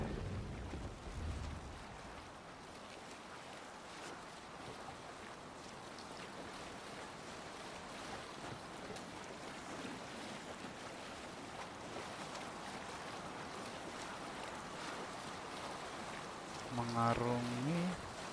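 A longship in Assassin's Creed Valhalla sails through marshy water with a soft, continuous wash of water and wind, steady and fairly quiet, and a voice speaks briefly near the end.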